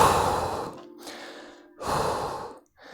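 A deep breath during a home full-body circuit workout: two long, loud, near inhales and exhales with a short pause between them and a quieter breath starting at the end.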